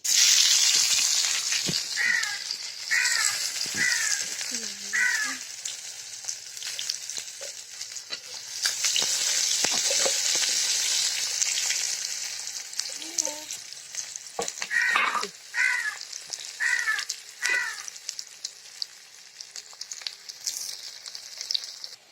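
Onions dropped into a hot pan with bay leaves for a chicken and potato curry sizzle loudly and crackle, with stirring scrapes and intermittent chirping in the background.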